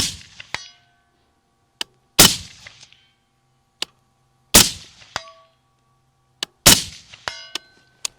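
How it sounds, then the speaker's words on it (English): Sharp metallic clangs of rifle bullets from an MK18 striking a steel plate, spaced irregularly, each ringing briefly with faint distant gunshots between them. "it still sounds like it's hitting that plate with some authority"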